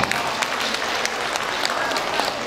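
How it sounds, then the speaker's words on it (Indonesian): Dense audience applause fills the room at an installation ceremony for school alumni association officers, a steady crackle of many clapping hands held at an even level throughout. "Luar biasa, tepuk tangan ini."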